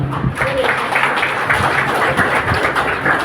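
Applause from an audience at a public address in India, a dense patter of clapping over a short stretch, fairly loud and steady with a faint voice underneath.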